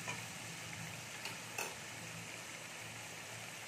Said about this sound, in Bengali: এক চামচ আদা আর কাঁচা লঙ্কার পেস্টটা দিয়ে দেব